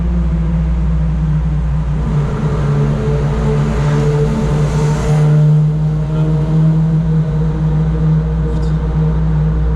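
A turbocharged 2019 Abarth 595 Competizione engine drones loudly and steadily, swelling slightly as it revs, with a deep rumble filling the space inside a tunnel.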